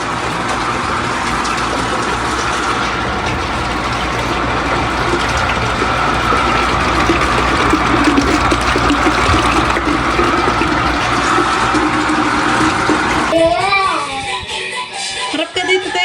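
Strong, steady gush of water pouring from a pipe, continuous and close, with voices briefly appearing near the end.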